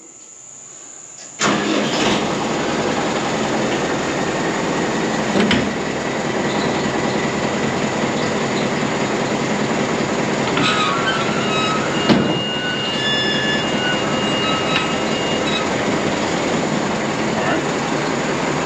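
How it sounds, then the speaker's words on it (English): A John Deere tractor powering a 385 round baler starts up and runs with a steady, loud engine drone and mechanical clatter, close by, with a few sharp knocks along the way. "I'm gonna get Cole to fire the tractor up, and I'm gonna show you kind of how the cylinder and the tension arm's working when the baler opens up"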